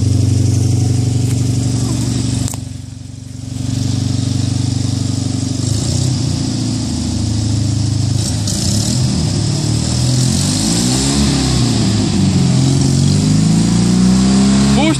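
A 1989 Fiat 126p's small engine revs loudly close by as the car pulls away, its pitch climbing and dipping through repeated throttle surges over about fifteen seconds.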